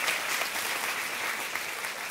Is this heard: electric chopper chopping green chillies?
no